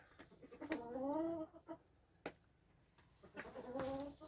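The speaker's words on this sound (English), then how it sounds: "These are my pure black roundhead hens." Pure black Roundhead hens clucking close by in a farmyard, a few short drawn-out calls with soft thumps between them, fairly quiet overall.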